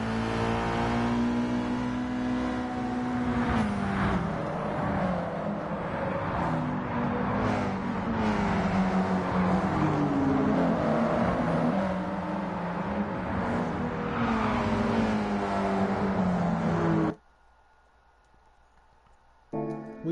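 A Ferrari 308 GTB in a racing game revs continuously, engine pitch rising and falling through gear changes for about seventeen seconds, loud and close, then cuts off abruptly to near silence.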